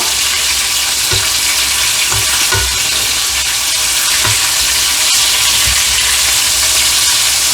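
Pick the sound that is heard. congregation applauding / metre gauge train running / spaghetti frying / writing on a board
spaghetti frying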